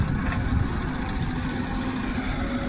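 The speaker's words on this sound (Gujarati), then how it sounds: "જોઈ લો આ ટ્રેક્ટર જોઈ લો" A tractor engine idles at a stone quarry, a steady low rumbling drone that holds even and fairly loud throughout the short stretch, with no talk over it.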